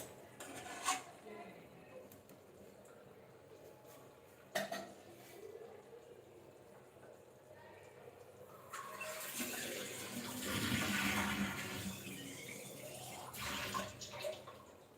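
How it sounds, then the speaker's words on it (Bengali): Water pours into a pan of cauliflower on the stove, a broad rushing splash swelling midway and fading, with a few clinks of kitchenware beforehand. "অল্প পরিমাণে জল দিলাম, এই জলটা আমার কপিটা সেদ্ধ হতে সাহায্য করবে"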